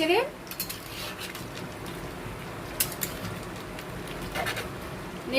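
Chicken rezala with cashews being stirred in a pan, a spoon scraping and clinking against the metal with a low sizzle underneath, continuous and close with a few louder knocks.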